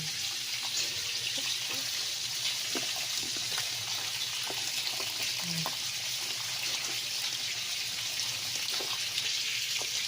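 Running tap water pours steadily over banana blossom being washed in a kitchen sink, a constant close splashing with small handling knocks throughout.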